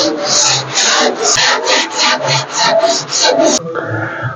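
Car bodywork being sanded by hand with a round sanding block, loud rhythmic back-and-forth rasping strokes, about a dozen in steady succession, close up and alone, then stopping.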